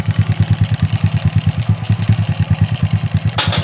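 Motorcycle engine with a suspected spark plug fault, running roughly with a loud, close, uneven chugging pulse of rapid beats and a brief hiss near the end.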